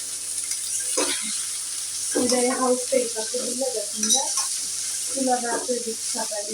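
Okra tipped into a hot pan with spices, sizzling steadily while a spoon stirs and scrapes in irregular bursts, with a voice speaking over the frying.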